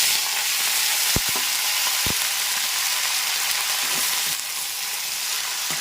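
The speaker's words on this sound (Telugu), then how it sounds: "జీలకర్ర, ఆవాలు మామూలుగా తాలింపులు వేసేయాలండి" Cumin and mustard seeds temper in hot oil in a pan, sizzling loudly and continuously, with a couple of sharp clicks from a spoon or pan.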